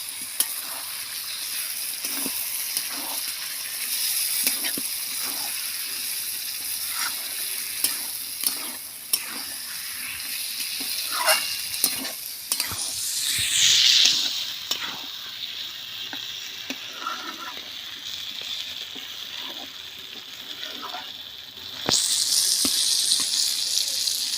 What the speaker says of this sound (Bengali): মশলা থেকে পুরো তেলটা ছেড়ে দিয়েছে এবারে আমি মাংসটা দিয়ে দেব মাংসটা দিয়ে আমি ভালো করে কষিয়ে নেব